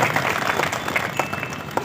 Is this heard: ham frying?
no